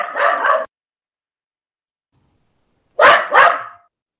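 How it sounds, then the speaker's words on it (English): An angry dog barks in two quick double bursts, sharp and fairly close, separated by a few seconds of silence. "That's an angry dog."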